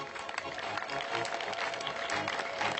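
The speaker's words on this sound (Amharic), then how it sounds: "በተለይ ወጣቶች በጣም አጨብጭቡ" A congregation at a gathering claps loudly and continuously, a thick wash of hand claps with faint voices mixed in underneath.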